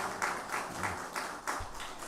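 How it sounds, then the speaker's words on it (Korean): A congregation at a Korean church Sunday worship service applauds the choir after a hymn, with soft, somewhat distant clapping that pulses in steady waves throughout. "성가대원들에게 다시 한번 감사의 박수 하겠습니다"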